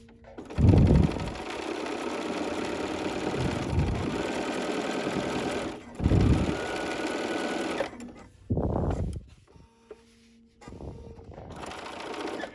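Sewing machine quilting with black 50-weight Aurifil thread, running in steady bursts with brief pauses between stitching runs, close and clear.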